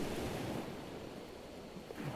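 Waves breaking at sea, a continuous faint wash of surf and wind with no voices.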